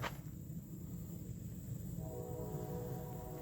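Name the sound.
passing train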